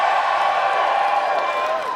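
Live comedy show audience cheering, whooping and clapping in a large hall, a loud, sustained roar of crowd voices that tapers slightly at the end.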